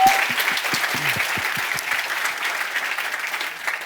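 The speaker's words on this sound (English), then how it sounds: "let's give them a round of applause" Audience applause in a brewery venue at a science festival talk, a burst of clapping that starts full and gradually thins and fades over a few seconds.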